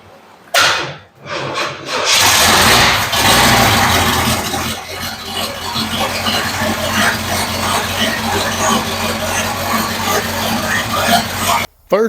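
An engine starts up and settles into a loud, steady idle on a homemade Vette Cart at an abandoned race track, cranking briefly before catching and running continuously until a sudden cutoff near the end.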